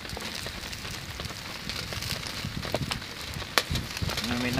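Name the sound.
campfire burning on a wet night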